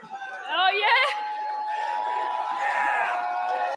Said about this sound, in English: Crowd's hype for her